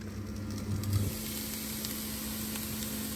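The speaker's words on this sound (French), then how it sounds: "je couvre et je laisse cuire quelques minutes" Onions cook in a covered pan for kefta with carrots, giving a steady soft sizzle and hiss that runs throughout, slightly louder in the first second, with no talk.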